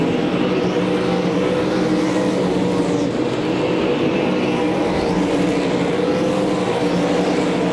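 Race cars roaring around a dirt speedway at a night racing event, a loud, continuous layered engine drone with passing cars swelling and fading, no talk.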